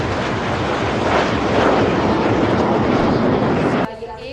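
A fixed-wing airplane passes overhead as a loud, steady broadband engine roar lasting about four seconds, then cuts off abruptly.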